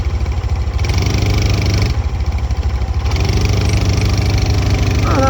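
A quad bike engine runs in the mountains with a low, throbbing, pulsing note, loud and close, rising slightly toward the end.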